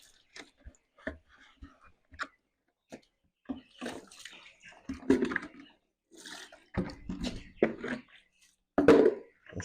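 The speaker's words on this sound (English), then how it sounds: "See, I take my time to really rinse it." Water splashes and pours in irregular bursts as something is rinsed on a broiler chicken farm, with close sloshing pulses separated by short quiet gaps, no talking.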